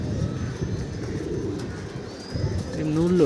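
Pigeons coo softly at a loft, with low murmuring calls that rise near the end as birds stir, and a person talks over them.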